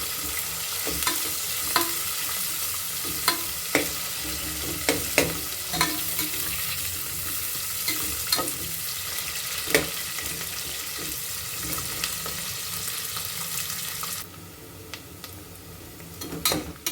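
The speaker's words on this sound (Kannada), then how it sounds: "ಆನಿಯನ್ನು ಫ್ರೈ ಆಗ್ತಿದೆ." Onions fry in hot oil for Mallika biryani, a continuous close sizzle punctuated by regular scraping clicks of a stirring spoon against the pan, easing slightly near the end.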